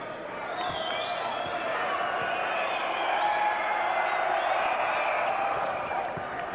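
A sellout basketball crowd at Horton Fieldhouse for a college game, a dense, steady roar of many voices filling the arena with no break.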